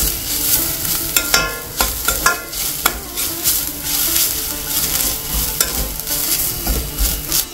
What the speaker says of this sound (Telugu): ఈ రవ్వలోనే మనం తురిమి పెట్టుకున్న పచ్చి కొబ్బరి కూడా వేసి వేపేసుకోవాలండి.